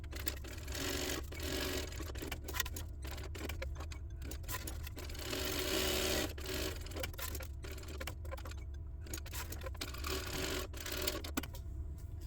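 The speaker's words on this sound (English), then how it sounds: "So I'm just going to sew on the line all the way around." A sewing machine stitches steadily around the edge of a crossbody hip bag, a continuous close mechanical whir with quick rhythmic needle clatter and brief pauses between runs.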